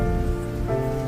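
Steady rain falls in a cartoon scene, a continuous, even hiss of drops on a surface with no voices.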